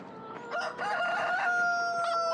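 Chickens in the farming game Farming Simulator 2013 crow loudly and steadily, with clucks mixed in, close and clear against a soft background hiss.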